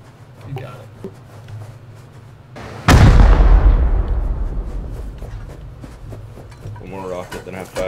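A C4 charge detonates during a raid in the video game Rust, one loud, sudden blast that decays into a long rumbling tail, with quieter game noise and a voice around it.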